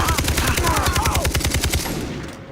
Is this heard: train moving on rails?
no